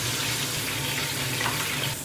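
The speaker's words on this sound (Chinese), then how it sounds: "珍宝蟹给它下锅，珍宝蟹多分两锅" Dungeness crab deep-frying in a wok of plenty of hot oil, giving a loud, dense, continuous sizzle and bubbling up close that drops off slightly at the very end.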